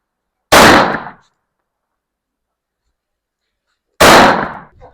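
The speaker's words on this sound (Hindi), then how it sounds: "Is this your first rifle shot?" Two loud, sharp rifle shots crack at a shooting range, fired at a steel plate about three and a half seconds apart, each with a short decaying echo and near silence between.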